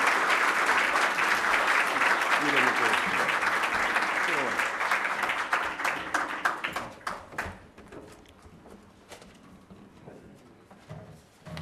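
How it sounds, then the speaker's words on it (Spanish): A formal solemn session hall fills with sustained audience applause for Dr. Raúl Chanamé Orbe, loud and dense at first, then thinning into scattered claps before fading out. "Yo pido un voto de aplauso al doctor Raúl Chanamé Orbe."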